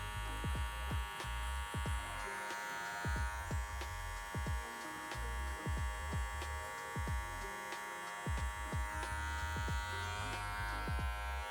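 Electric hair clippers buzz steadily and close while cutting a low taper haircut, the motor hum broken by repeated short strokes through hair in an uneven rhythm, no voices.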